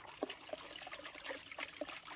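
Biodynamic soil activator water being stirred by hand into a vortex, giving soft trickling and swirling liquid sounds with a few small splashes, close and fairly quiet, with no talking.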